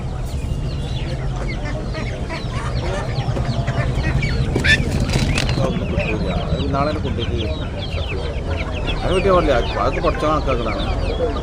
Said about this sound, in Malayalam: നല്ല കോഴിയാണ്